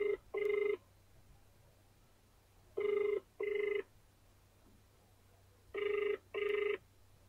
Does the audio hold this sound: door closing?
no